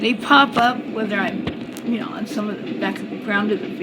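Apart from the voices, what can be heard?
No distinct noise like a dog, phone or traffic.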